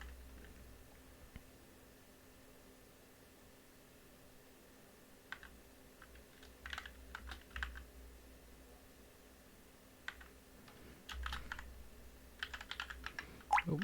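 Computer keyboard typing comes in faint, scattered clusters of light clicks over a low hum, including a Ctrl C press, with long quiet gaps between bursts.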